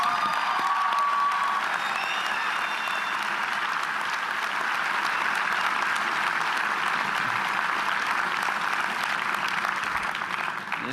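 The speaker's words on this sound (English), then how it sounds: "Let's give them another round of applause." At a college commencement, a large crowd claps steadily for retiring staff members, a broad, even wash of applause with faint whistles early on, holding at a constant level before tapering slightly at the end.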